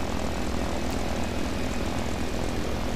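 A fixed-wing propeller airplane flies steadily, its engine drone loud and continuous throughout with no pauses or talk.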